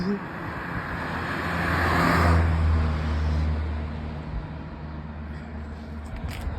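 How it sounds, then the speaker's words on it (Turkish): Cars go by on a road, with broadband tyre-and-engine rush building to a loud pass around the middle and fading, low engine hum throughout, and people talking quietly in the background. "Kaç tane araba geçti."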